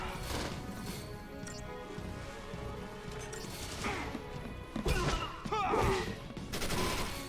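Grenade ability blasts in Final Fantasy 13 land as a cluster of crashing, crackling impacts over a busy, dark battle soundscape, with bursts at irregular moments and a faint voice underneath.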